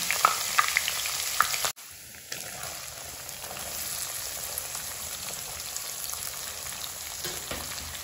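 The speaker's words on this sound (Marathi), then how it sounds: "आता आपलं तेल गरम झालंय, आता आपण त्याच्यामध्ये खडे मसाले टाकू" Whole spices and ginger garlic paste dropped into hot oil for chicken dum biryani, a brief crackle and then a hiss after a short gap, followed by a continuous close sizzling with faint pops and occasional stirring.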